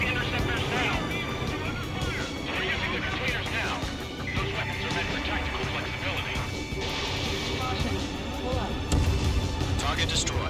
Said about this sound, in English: They got their anti-air guns aimed right at us.